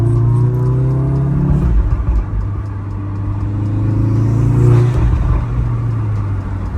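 A Volkswagen Golf R Mk7 engine with an exhaust mod revs hard and loud during a launch, its pitch climbing steadily, drops briefly as it shifts, then climbs again.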